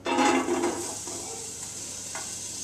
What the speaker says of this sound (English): We're going to put 1 chopped onion into the pan.